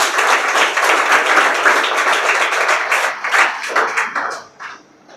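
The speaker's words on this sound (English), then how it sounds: "Everyone big round of applause." Audience clapping fills a school confidence-building program, a dense, steady round of applause that holds strong for several seconds before thinning out and fading near the end.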